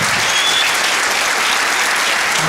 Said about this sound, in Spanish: Seguidamente, producimos unos aplausos